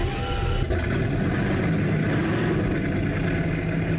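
A Bugatti EB110 in the Driving Empire game holds a steady engine drone, close and fairly loud, with a slight surge early on and no talk over it.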